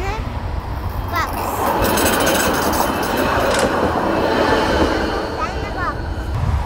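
A tram rolls past close by with a loud, steady rumble and rattling wheels, brief high squeals rising near the start and end, while people talk underneath.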